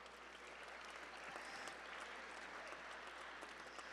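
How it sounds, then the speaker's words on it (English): Audience at a charity gala breaks into sustained applause, a dense, even wash of clapping heard from a distance and at low level throughout. "How about another round of applause?"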